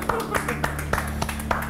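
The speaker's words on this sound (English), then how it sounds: "How about a nice round of applause?" Brief scattered clapping from a few people, quick uneven claps under a talking voice.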